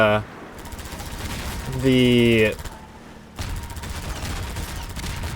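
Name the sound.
gunfire shooting missiles in a video game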